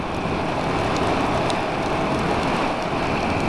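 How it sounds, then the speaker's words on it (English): Heavy rain pouring steadily during an adventure motorcycle ride on a Triumph Tiger 1200 in rural Australia, a dense, constant hiss and patter with wind noise, loud and unbroken throughout with no talking. "The rain has certainly settled in."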